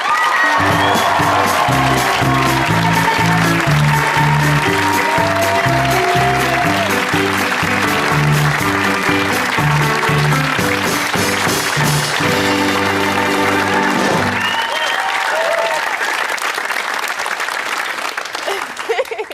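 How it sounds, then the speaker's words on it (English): A television studio audience at a comedy chat show cheers and applauds loudly and continuously for a celebrity guest's entrance, a dense wash of clapping under music that fades out near the end. "I didn't get a cheer like that."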